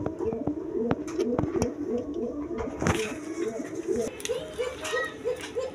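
Giribaz pigeons, colourful golla birds kept for sale, coo over and over in a repeating rolling rhythm close by, with a few sharp knocks and wing or cage noises in the background.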